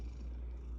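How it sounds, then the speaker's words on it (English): A cat purrs in a steady, low, rumbling drone close by, continuous for under a second with no other sounds. "This kitty cat's still meowing at Mama."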